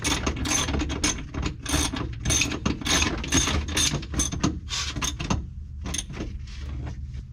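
Close, busy clicking of a ratchet wrench turning a bolt while installing an air ride seat in a 1988 Ford F700 truck, in quick bursts of strokes with brief pauses, no talking.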